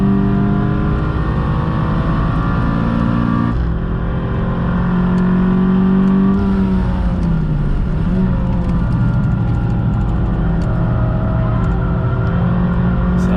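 A Renault Clio 197 Cup rental car driven hard on track at Donington Park: a loud, constant engine drone heard from inside the cabin, with the pitch shifting through gear changes and revs, and no talking.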